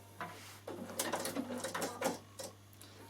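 A Bernina sewing machine running a narrow zigzag stitch, a quiet rapid mechanical patter in short bursts over a steady low hum, close by.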